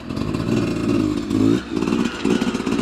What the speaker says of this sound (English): So we're testing turning radius, doing full lock turns on both the bikes.